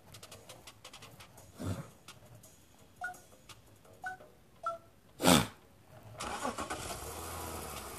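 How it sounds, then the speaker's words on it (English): A car engine starts in the video game Bait Car: a few short clicks and chirps, a loud cranking burst, then the engine catches and settles into a steady idle. "Engine start."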